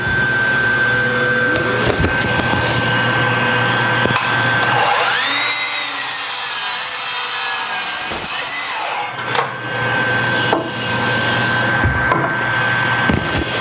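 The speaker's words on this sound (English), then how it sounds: "So I've got this set up on my chop saw, and it's going to get a little loud." A chop saw cuts through wood in a workshop, giving a loud, sustained whine and roar that runs the whole time, with a deeper cutting surge midway before the motor spins on alone.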